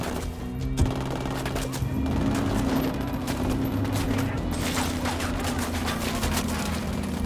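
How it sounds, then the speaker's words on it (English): Rapid automatic gunfire and bursts of shots fill a firefight in the video game Ghost Recon Wildlands, sustained and dense over a steady background rumble, with shouted voices mixed in. "Fire, fire, fire!"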